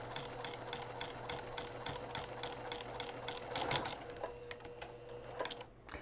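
A sewing machine fitted with a walking foot stitches a quilt sandwich in the ditch, a steady rapid mechanical chatter with an even rhythm that runs close and continuous, then slows and stops near the end.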